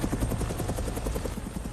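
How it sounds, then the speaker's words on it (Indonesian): A helicopter lands in front of a house in the animated film The Boss Baby, its rotor beating a fast steady chop with loud low thumping throughout. "Ada helikopter yang mendarat di depan rumahnya"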